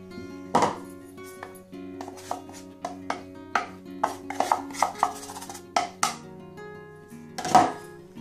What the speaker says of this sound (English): I'll just put the flour into my sieve and the corn flour as well